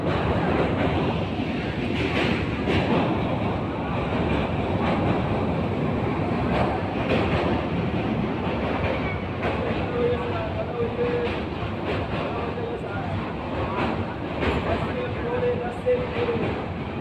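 A passenger train crosses a railway bridge on the Katihar–Barauni line in Bihar, producing a steady, loud rumble and rattle of wheels and cars that continues throughout with no letup.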